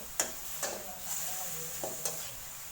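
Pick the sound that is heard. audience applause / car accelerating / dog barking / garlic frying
garlic frying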